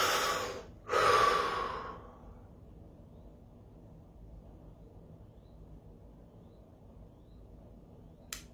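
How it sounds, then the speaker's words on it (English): A single sharp inhaled breath near the start, close and clear, then a long quiet hush with faint room noise and a brief soft click at the end. "Take a breath."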